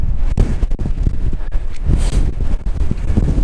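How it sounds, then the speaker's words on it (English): Strong gusts buffet the microphone on the exposed summit of Moel Siabod, a loud, continuous rumbling roar with no one talking. "Very windy."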